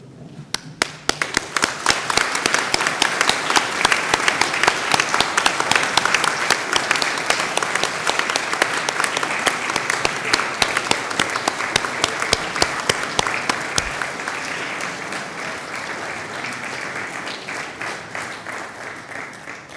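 Sustained audience applause at a university graduation ceremony for English, History, Politics, Theology and Religious Studies, dense steady clapping from a large crowd filling the hall for nearly twenty seconds, thinning slightly toward the end.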